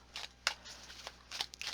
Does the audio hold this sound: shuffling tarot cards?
yes